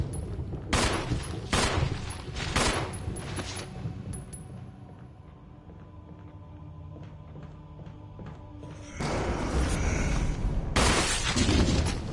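Gunshots fired at a zombie in the Resident Evil 1 Remake: a quick run of four or five sharp, loud shots, a quieter stretch with faint clicks and ambience, then another burst of several close shots.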